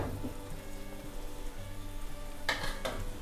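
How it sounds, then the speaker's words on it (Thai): Thai beef kua curry with coconut milk bubbling in a pan, a steady close sizzle with two sharp bursts of stirring clatter near the end. "เติมกะทิลงไปเราก็แค่จะคนๆเล็กน้อยนะคะ"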